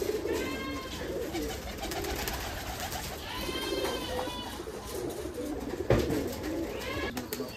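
Domestic Giribaz pigeons coo steadily at a country-style pigeon farm, several birds overlapping in a close, continuous chorus of rolling, throaty calls with no talking.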